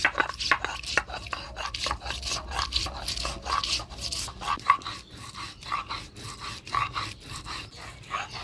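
Ginger, green chilli and whole cumin are ground together on a stone for a fish curry, giving close, rhythmic scraping and rubbing strokes that repeat steadily throughout with no talking.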